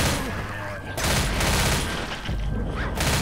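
Dense, continuous gunfire in Left 4 Dead as household appliances get shot. Loud overlapping shots and crashes blur into a sustained roar with barely any gaps.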